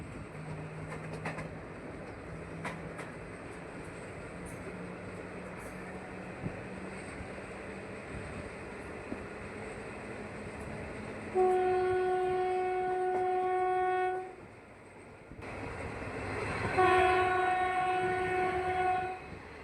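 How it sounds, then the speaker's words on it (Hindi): A container goods train bound for Mundra Adani port rumbles past with steady rail noise, then sounds a loud sustained horn blast, breaks briefly, and blares the horn again close by. "ये container good train Mundra Adani port के लिए है"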